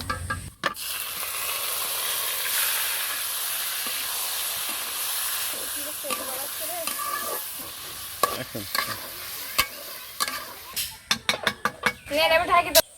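Meat tossed into a hot pot for village-style biryani sets off a loud, steady sizzle and hiss, then spoon stirring and scraping clatters in quick bursts toward the end, with a voice talking over it.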